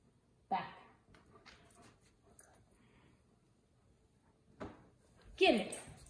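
A dog gives short, high whimpering yips in a few brief bursts during an outdoor fetch-style training session, with a person speaking quietly between them.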